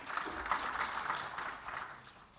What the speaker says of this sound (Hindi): उनके लिए ताली जरूर बजा दें